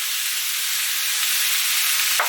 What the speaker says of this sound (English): Give it a good old stir, make sure everything's coated in the oil.